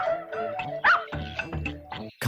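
A dog yips and barks in short, whining bursts, close by and fairly loud, with a brief sharp sound at the very end.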